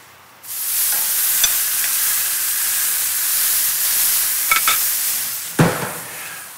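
Steak sears on a grill with a loud, steady sizzling hiss that starts abruptly and holds throughout, broken by a few close metallic clicks and scrapes from tongs or a spatula, no voices.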